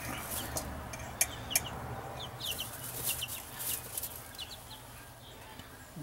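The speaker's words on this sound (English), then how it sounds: "baby chicks for our chicken pen" Soft clucks and faint chirps from chicks and chickens in a chicken pen, scattered and fairly distant over steady background hiss.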